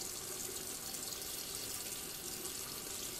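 Water runs steadily from a leaking sink, a constant faint hiss and splash with no breaks.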